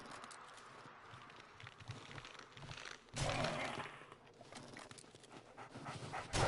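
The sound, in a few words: dog panting in 7 Days to Die video game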